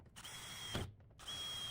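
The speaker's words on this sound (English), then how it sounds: "Drill my mounting holes for the screws." A power drill bores mounting holes for screws while installing an R32 split system furnace, giving two close, steady whirring runs separated by a short pause.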